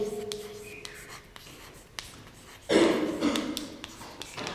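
A pen or chalk scratches and taps as a place value is written during a maths lesson. Faint ticks come first, then a louder, denser stretch of writing strokes near the end.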